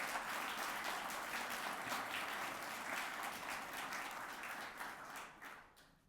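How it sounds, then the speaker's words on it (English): Audience applause fills a ceremonial swearing-in event for the National Asian Pacific American Museum Commission, steady and dense clapping from a crowd that fades out toward the end. "Let's give them a round of applause."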